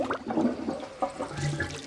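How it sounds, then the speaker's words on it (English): A household toilet flushes in a domestic bathroom, a brief gurgling rush of water with uneven splashy bursts, close by and fairly quiet, with no voices. "I'm gonna flush."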